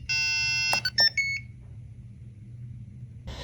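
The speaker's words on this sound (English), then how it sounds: "The second peripheral we implemented was PWM for the sound effects of the pet through the buzzer." A PWM-driven buzzer on the TomaByte virtual pet gadget sounds a steady electronic tone, then a few short chirping beeps, followed by quiet hum and a faint brief noise at the end.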